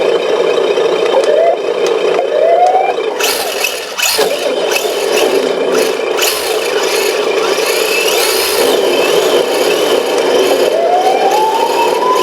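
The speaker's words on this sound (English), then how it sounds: "Now we've also got hooked up to our siren" A siren effect from a small RC drift car rises and falls in repeated wailing sweeps, played loudly and continuously with an engine-like drone and rattle underneath, and no talking.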